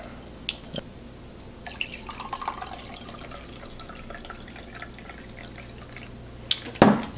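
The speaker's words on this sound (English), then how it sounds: "let's pour" Cold brew coffee pouring from a Dash cold brew maker, a soft trickling and dripping stream with small splashes, close and quiet, ending in a louder splash, no talking.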